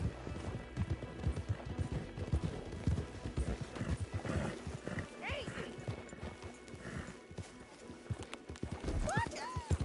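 Horses in the video game Erica clop and shuffle nearby with hoof thuds and a couple of rising whinnies toward the end, while speech runs underneath.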